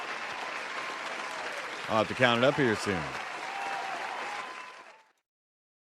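Applause from a small live-show audience on a late-night program, steady clapping running under a man's speech for about five seconds before cutting off.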